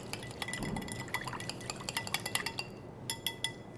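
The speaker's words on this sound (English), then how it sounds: "And we're going to just whisk that together." A whisk clinks quickly and steadily against a bowl while salad dressing with salt and pepper is beaten together, close and fairly quiet, the rapid metallic ticks sharpening toward the end.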